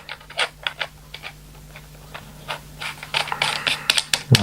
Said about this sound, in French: Donc vous allez venir visser votre embout dessus,